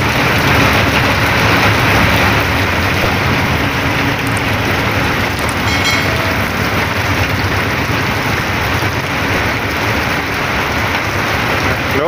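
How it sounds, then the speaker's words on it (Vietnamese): Heavy rain pours down steadily around a barge cabin, a dense, loud, unbroken hiss that fills the whole stretch without letting up. "Mưa quá trời mưa ha."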